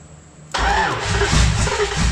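An engine fires up for the first time after a short crank, catching with a loud sudden burst and then running unevenly near the listener for under two seconds.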